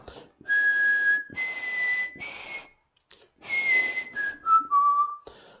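Clear whistling in a series of sustained notes at shifting pitches, with short pauses between phrases, close and alone.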